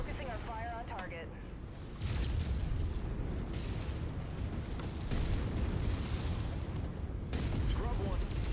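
MechWarrior 5 battle with continuous weapons fire and booming explosions, a dense rumbling barrage throughout, and a voice speaking over it.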